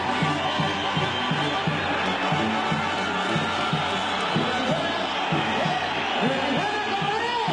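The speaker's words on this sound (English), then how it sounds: "a very good applause indeed for Barrera as he enters the ring" In a boxing arena, the crowd claps and cheers as Marco Antonio Barrera enters the ring before his fight with Erik Morales, a loud continuous roar of applause under a commentator's voice and background music.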